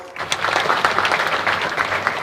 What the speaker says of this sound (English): Could we again give them a round of applause?